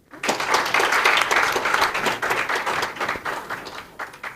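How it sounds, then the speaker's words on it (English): Loud round of applause for a panelist at an IGAD high-level conference, a full room of clapping hands swelling quickly and then tapering off gradually. "Now let's give a very loud round of applause to this distinguished panelist."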